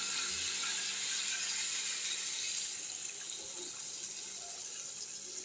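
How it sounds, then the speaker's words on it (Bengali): Water poured into a pan of simmering Bengali potato curry (aloo dum), a steady broadband splashing rush that runs continuously and fairly loud, easing slightly toward the end, with no voices. "এবার আমি জল দিয়ে দেবো।"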